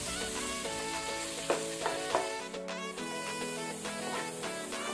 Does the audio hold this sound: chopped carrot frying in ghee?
yes